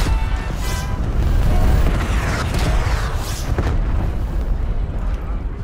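Game explosions and booming blasts from a Call of Duty Cold War match, a dense continuous roar of detonations with rumbling low end and bursts layered over one another, with people talking over the chaos.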